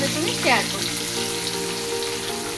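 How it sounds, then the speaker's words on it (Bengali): Chopped onion hits hot oil already tempered with cumin seeds, bursting into a loud, close, steady hiss of frying that holds evenly throughout, with a faint voice briefly over the start. "এবার পেঁয়াজ কুচিটা দিয়ে দিলাম।"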